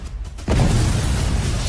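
A bomb blast in an action film as a building is destroyed: a sudden deep, heavy boom that breaks in after a short, quieter lead-in and then rolls on loud and sustained.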